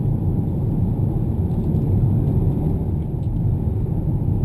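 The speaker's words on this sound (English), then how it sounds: "It's just that tiny bit of sort of beefiness, that bassy note, just to remind you you've got the 2 litre turbo version" Inside the cabin of a 2015 Hyundai Sonata 2-litre turbo, a steady deep bassy engine rumble drones continuously, close and fairly loud, with no talk.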